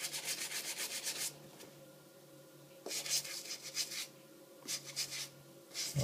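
A toothbrush scrubs soapy Air Jordan XI sneakers, a quiet close rapid brushing in three bursts separated by short pauses.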